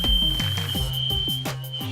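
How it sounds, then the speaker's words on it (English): A smoke alarm shrieks with a steady piercing tone while shrimp cook for egg rolls in a kitchen, loud and close, with clattering and sizzling kitchen noise beneath it. "We set the alarm off."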